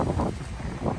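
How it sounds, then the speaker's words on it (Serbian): Strong wind buffets the microphone on the exposed, windy side of Rhodes island where large waves roll in, a loud rumbling gusty roar with surges of surf-like noise and no voices. "Uvek je vetar s ove strane."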